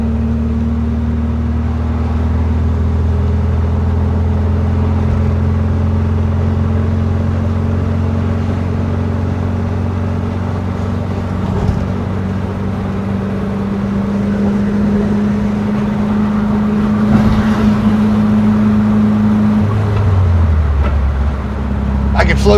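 A 1968 VW Type 3 squareback with an 1835cc engine that has idling issues runs with a steady low drone. Near the end, the pitch drops as a gear is changed without the clutch.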